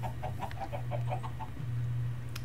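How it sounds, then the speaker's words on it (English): Chickens cluck in a rapid series of short notes in the Minecraft video game, clear and close over a steady low drone, with a sharp click near the end. "Just casually murdering chickens that I don't need."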